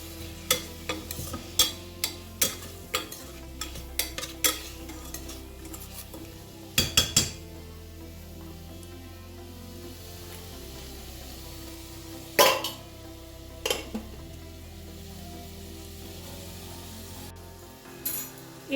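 A spoon scrapes and knocks against a pan as chili powder is stirred into chicken pulao. The clatters come at irregular intervals over a soft background sizzle, and nobody speaks.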